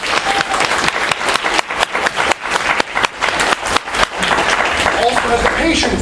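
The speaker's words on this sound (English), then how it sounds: "Applause again" Audience applause at a charity auction during an anime convention, steady clapping from a full crowd that swells and holds for several seconds without letup.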